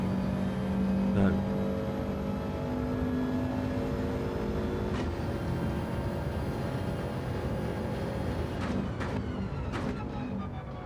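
A race car engine drones steadily while driving through a corner in a racing video game, holding a loud continuous note with small pitch shifts and brief rasps as it rolls through.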